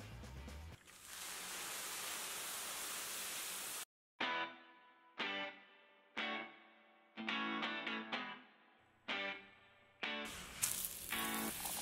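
Chorizo sausage and vegetables frying on a Blackstone flat-top griddle, a loud steady sizzle that breaks into repeated short bursts of crackling with brief quiet gaps between them.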